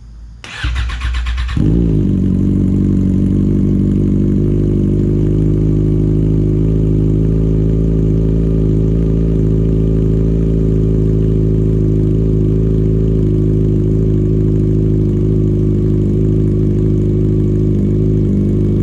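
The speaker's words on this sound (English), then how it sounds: "first, let's get a cold start." A Yamaha FZ6R motorcycle engine cold-starts, cranking and catching, then settles into a loud, steady, rumbling idle that continues without letup.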